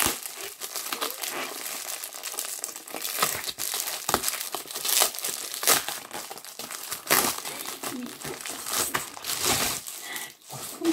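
Plastic packaging being torn and unwrapped from a book, close crinkling and crumpling with sharp rips in an irregular rhythm, no talking.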